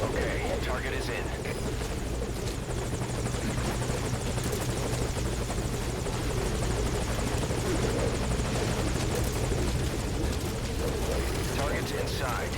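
Helicopter in the video game Metal Gear Solid V: Ground Zeroes, a loud, steady rotor drone and deep engine rumble that fills the whole stretch without letup, with faint voices mixed underneath.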